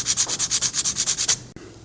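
Plastic miniature battle-suit pieces are sanded by hand in quick, even rasping strokes, about a dozen loud close rubs in a steady rhythm, then a pause and a small knock, with no voices.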